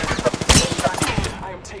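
Rapid bursts of video game gunfire crackle in quick succession, a dense string of automatic shots with a few heavier blasts near the middle, loud and close in a shooter match.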